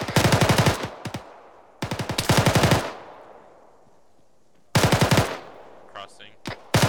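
Automatic rifle and machine gun fire during squad training, three sharp close bursts of rapid shots separated by short gaps, loud and dominant, with brief radio-style voices in between.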